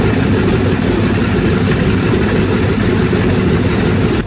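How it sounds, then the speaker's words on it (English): An old Antonov aircraft engine roars loud and close in a steady, heavy drone that holds unbroken throughout. "When the Antonov N2 SEKC starts up, the powerful sound of the engine fills the air"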